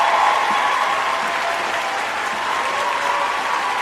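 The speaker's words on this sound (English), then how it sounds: "Hold on, let me get a round of applause on that." Dense, even applause from a large crowd, loud and sustained, like a canned clapping effect.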